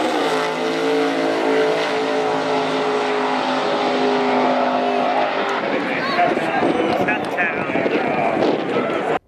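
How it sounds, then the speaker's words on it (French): A drag racing car engine revs hard and loud with a rich, sustained roar. Its tone shifts partway through into rougher, broken bursts, as if the throttle were released. "qu'on lâche le gaz, bien, le moteur va arrêter"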